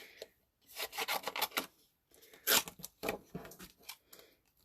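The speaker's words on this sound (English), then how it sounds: "I'm going to cut right along the outside" Handheld snips cut out simple paper cards in short bursts of crisp snipping and rasping, close and quiet, with a pause between two runs of cuts.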